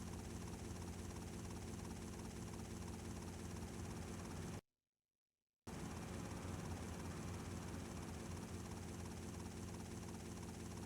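A helicopter flies in Grand Theft Auto: Vice City Stories, its steady, dense rotor and engine drone running loud and constant, broken by one abrupt second of total silence midway before the drone resumes unchanged.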